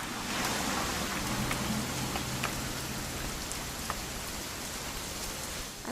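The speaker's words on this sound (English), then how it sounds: "It's gonna rain the whole weekend, isn't it?" In the video game What Remains of Edith Finch, rain pours steadily, giving a dense, even hiss with scattered sharper drop ticks and a faint low hum underneath, continuous throughout.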